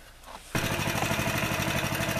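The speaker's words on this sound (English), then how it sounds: "I'm going outside to run the trencher." A trencher engine fires up outdoors at a crawlspace drain job, jumping abruptly from quiet into a loud, steady mid-pitched engine chatter that runs nearby without a break.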